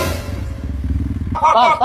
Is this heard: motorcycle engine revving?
yes